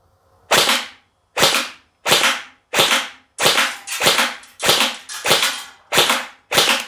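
Umarex VFC Heckler & Koch HK416C V2 airsoft electric rifle firing outdoors in a field test: ten sharp, snappy semi-auto shots spaced about two-thirds of a second apart, loud and close with quick decays and no talking.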